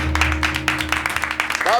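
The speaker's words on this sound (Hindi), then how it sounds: "बस इतनी तालियां मत बजाइए।" Studio audience applause on the Indian TV comedy show Maddam Sir: a dense, steady patter of many hands clapping at once, sustained throughout, with a voice and music running beneath it.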